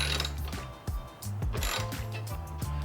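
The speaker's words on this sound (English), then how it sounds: "Get it hand tight, and then we'll use a ratchet." Ratchet wrench snugging 8mm nuts on a VW MK7 Euro LED tail light, a close run of quick metallic clicks in several short bursts with brief pauses between strokes.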